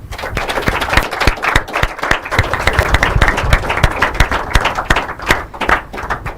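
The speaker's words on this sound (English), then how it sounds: "Why do I feel like we shouldn't stop clapping?" Dense, sustained applause from an audience at an inter-collegiate quiz and debate competition, many hands clapping loudly and continuously with sharp, rapid claps throughout.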